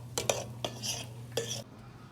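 A utensil scrapes and knocks against a pot while rice is stirred, several short clacks and scrapes in quick succession over a steady low hum, close and moderately quiet.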